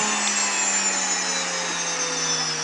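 An electric grain mill grinding navy beans into flour gives a steady, loud, whining hum with a high-pitched tone that holds almost constant and starts to settle slightly, with no talking.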